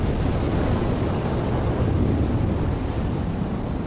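Rough ocean surf on a stormy day roars as a dense, loud, continuous wash of breaking waves and wind with no pauses.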